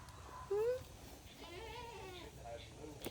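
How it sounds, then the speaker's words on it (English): Goats at feeding time in a farm pen give a short bleat, then a longer, wavering distant bleat, faint against quiet outdoor background with a person talking nearby. "There's another goat."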